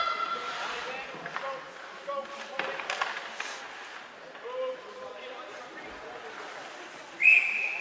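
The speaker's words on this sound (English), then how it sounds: "We'll get a whistle and we'll have another face-off." A referee's whistle sounds briefly at a U19 women's ice hockey game in an arena, a short shrill blast near the end amid distant rink noise, stick taps and commentary.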